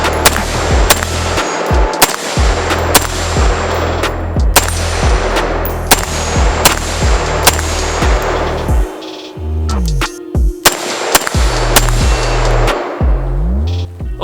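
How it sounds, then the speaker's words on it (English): A rifle fires rapid shots with its AAC blast diverter removed. Loud, concussive reports come in steady quick strings, with brief pauses between groups, close and sharp throughout. "I took the AAC blast diverter off now. I have a feeling this thing is going to be loud and maybe even shoot some fireballs."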